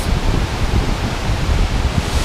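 Kapuzbaşı waterfall in Kayseri, heard from right beside the falls: a steady, loud, broadband roar of rushing water that holds unbroken throughout, with no voices.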